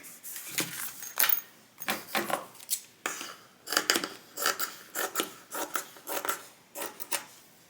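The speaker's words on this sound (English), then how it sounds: "I'm going to trim it so that they're nice and even" Scissors snip steadily through the fabric edges of a tote bag being trimmed even, a quick run of crisp, close cuts in irregular bursts with short pauses, with no talking.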